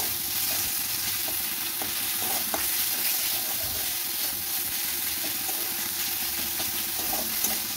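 Spice paste with chopped chili and turmeric fries in a pan for chili soyabean, a constant close sizzle broken by light scraping taps as it is stirred.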